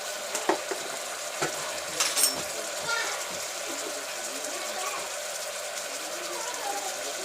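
Goat mutton curry stirred and frying in a pressure cooker, a soft steady sizzle with a few sharp clinks and scrapes of the spoon against the pot near the start, close by, with no talking.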